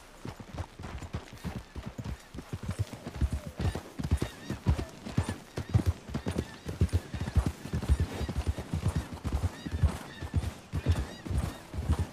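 Horses clip-clop at a walk, close and fairly loud, hooves striking in an uneven, overlapping rhythm that grows denser midway, with a soft snort or whinny and no talking.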